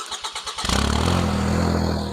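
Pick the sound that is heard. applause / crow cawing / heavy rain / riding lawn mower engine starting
riding lawn mower engine starting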